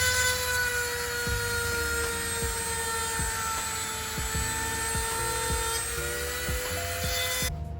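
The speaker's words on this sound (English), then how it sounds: "I'm just gonna clean this off and drill it out" Close, steady high whine of a drill as a car's boot fin is drilled out, with soft regular knocks and bumps running under the tone before it cuts off at the end.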